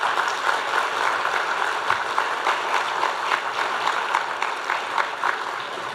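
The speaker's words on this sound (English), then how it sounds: "I want you to give Mr. Lashley a round of applause" Audience clapping in a hall for a retiring permanent secretary at an energy event, a steady, dense round of applause held at an even level for several seconds without any speech.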